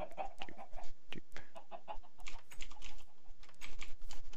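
Chickens on a farm in the Minecraft-style game Torch-Craft, with soft clucks mixed among rapid, busy keyboard typing clicks that continue throughout.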